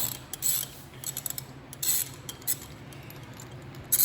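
Spark plug being removed from the left side of a Honda CB350 twin motorcycle: quiet, quick metallic ratchet clicks and small clinks in irregular bursts.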